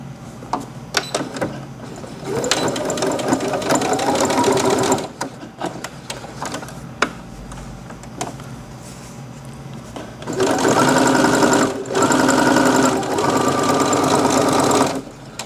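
A sewing machine stitching fabric tea coasters in a home workshop runs in two long, steady bursts of fast mechanical whirring, with clicks and handling noises in between.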